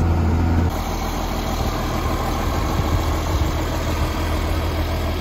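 A John Deere 4450 tractor engine drones steadily and loudly while hauling hay bales through a field in 13th gear, a continuous close rumble with no talk.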